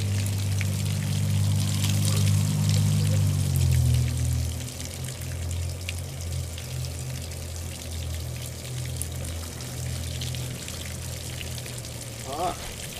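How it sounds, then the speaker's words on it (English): Water from a Yamaha outboard's thermostat housing pours and splashes steadily, with a louder low rush in the first few seconds that then settles into a continuous trickling flow. "The water is coming out of the top like it should"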